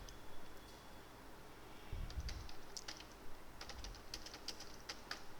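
Quiet typing on a computer keyboard, a loose run of light key clicks with no talking.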